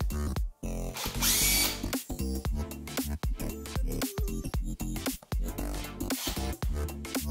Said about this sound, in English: And we'll start drilling.